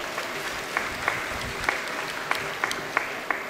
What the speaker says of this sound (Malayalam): നമുക്ക് എല്ലാവർക്കും കൂടി അവർക്കൊരു വലിയൊരു കയ്യടി കൊടുക്കാം.